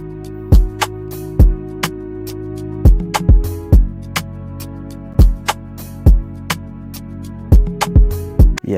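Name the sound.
strings at lowered volume for the verse in FL Studio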